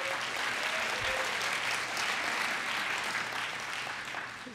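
Audience applause at the closing ceremony of the 25th Harm Reduction International Conference, a dense, sustained clapping from a large crowd that holds steady throughout and fades slightly at the end.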